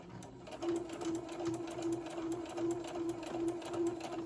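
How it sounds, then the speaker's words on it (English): A sewing machine stitches a small fabric candy cane ornament in white thread, its needle hammering in a fast, even rhythm for several seconds, close and steady with no talking. "sew a few stitches and then kind of start going down"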